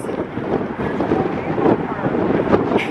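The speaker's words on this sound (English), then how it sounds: "You heard the wind." Wind buffets the microphone with a continuous low, rumbling roar that gusts and swells, close and loud with no clear pauses.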